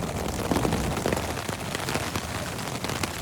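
Rain drums steadily on a tent, a dense, close patter with scattered louder drops and no voices.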